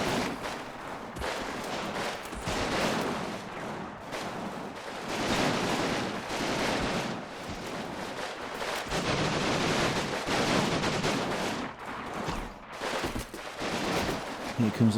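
Bursts of heavy machine gun fire and other battle gunfire from the WWII video game Combat Mission: Stalingrad, with dense rattling volleys rising and falling in waves and a sharp distant crack near the end.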